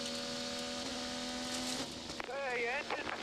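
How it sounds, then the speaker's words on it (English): IndyCar race car on the Road America track in the 2022 Sonsio Grand Prix, its engine failing: a steady high tonal drone holds then abruptly cuts out, followed by a rising warbling tone, with broadcast commentary over it. "The car's died on him. It's gone dead stick."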